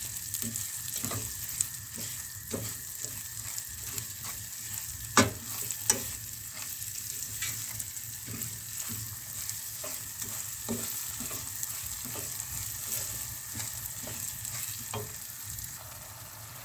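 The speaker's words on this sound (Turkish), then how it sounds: "Ocağımızın ateşi biraz kısık olsun arkadaşlar ve sürekli karıştıracağız." Semolina halva being stirred continuously in a pan over low heat, a steady soft scraping and light sizzle with frequent small spoon taps against the pan, close and alone with no talk.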